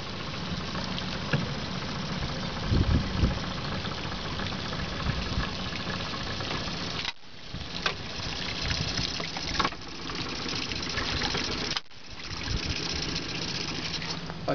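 Tohatsu 9.8 outboard motor on a Mako boat idles steadily with a knocking, burbling note and a wash of pumped water, continuous and close for the whole stretch with brief dropouts.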